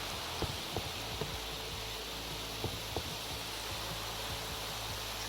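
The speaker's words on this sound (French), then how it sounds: "Et il pleut." Rain falling in Minecraft with a custom texture pack, a steady soft hiss of drops with a few faint low thumps, quiet and continuous with no voices.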